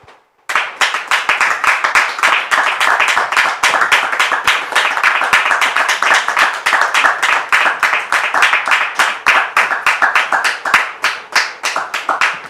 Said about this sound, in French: de recevoir le pasteur Donald sous vos applaudissements, s'il vous plaît.